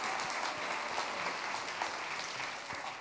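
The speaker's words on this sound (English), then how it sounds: "So let's round of applause." Audience at a climate-smart agriculture science conference debate clapping, a dense, steady wash of applause from a crowd, moderately distant and without a break.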